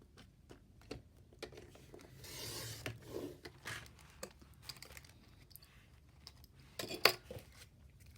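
Scissors cut a half-inch-wide paper strip with faint, close snips and rustles. A few sharper clicks come through near the end in an otherwise quiet room.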